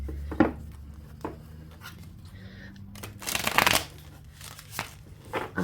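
A deck of Haunted House tarot cards is shuffled by hand, quiet papery riffles and soft slaps coming in short bursts, with one longer riffle midway, close by and alone.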